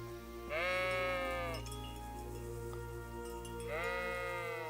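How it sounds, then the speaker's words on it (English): Sheep bleat in the medieval role-playing game Kingdom Come: Deliverance, two drawn-out wavering calls separated by a pause, set over a steady low ambient game hum with no talking. "What are you doing, sheep?"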